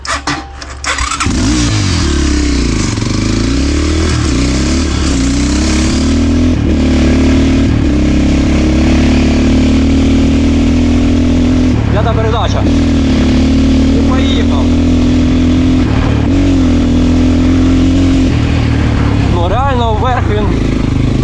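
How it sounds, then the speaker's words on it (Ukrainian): A motorcycle with a ported 172FMM engine pulls in fifth gear on a road, its steady droning engine note holding loud and close throughout while a rider talks over it. "Я їду на п'ятій передачі, і в мене є тяга, я відкриваю газ і воно починає їхати."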